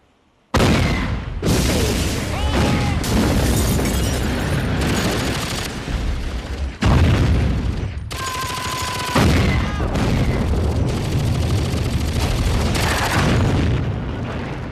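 Heavy artillery shelling of an urban neighborhood in a war film set in 1943: a relentless, loud run of booming blasts and crashing explosions. Brief gaps separate some of the salvos.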